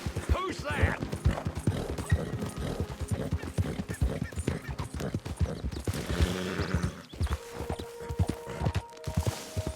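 Hooves clip-clop from a horse in Red Dead Redemption 2, arriving at a camp before being tied up; steady close hoofbeats mixed with game ambience and brief whinnies, with someone talking over much of it.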